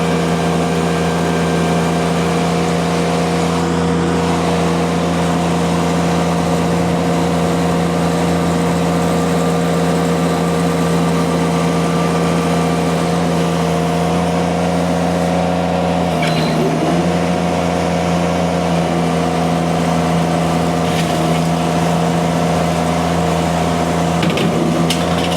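A V1000 machine runs at high RPM, a steady loud mechanical hum with a ratcheting, clattering texture, sustained close up for about twenty-five seconds with a brief dip midway and no talk.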